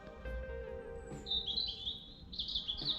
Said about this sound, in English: all you can hear is birdsong at this point